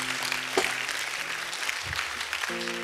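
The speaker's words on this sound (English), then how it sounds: "Clap your hands to the name of the Lord." Church congregation clapping hands in a steady patter, blended with sustained keyboard or organ tones beneath and a few brief voices.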